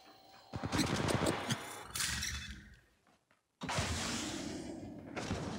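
Gunfire from Apex Legends Mobile in first-person mode comes as rapid bursts of automatic fire, then a brief lull and a near-silent gap, followed by another loud volley, close and punchy.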